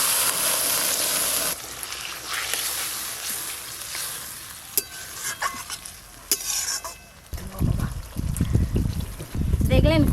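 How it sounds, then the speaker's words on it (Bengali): Water poured into a pan of egg curry, with stirring and a faint sizzle at first, then a louder gushing splash and bubbling toward the end while someone talks. "এবার জল দিয়ে দেব।"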